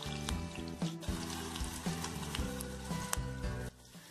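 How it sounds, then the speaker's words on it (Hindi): Green chilies sizzle in hot mustard oil in a pan, a busy crackling fry with repeated soft clatters and pops that cut out abruptly near the end. "ग्रीन चिली को 30 सेकंड्स तक फ्राई कर लें।"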